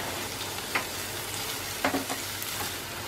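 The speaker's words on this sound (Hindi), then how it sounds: "तेज आंच पे फ्यू सेकंड सौते कर लेंगे" Green chili paste and finely chopped spring onion whites sauté in a pan over high heat for a Chinese-style paneer chilli, giving a steady close sizzle broken by a few sharp stirring scrapes.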